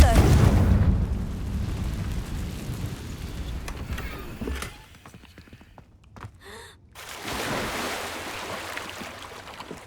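A Confringo blasting spell explodes in Hogwarts Legacy with a loud low boom and rumbling debris at the start, fading into a quieter stretch before a brief burst and swelling ambient noise; a voice speaks over parts of it.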